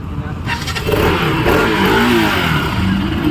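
A used motorcycle, up for sale in Kollam, with its engine running close up: a steady, rough rumbling drone that swells as it revs from about one second on.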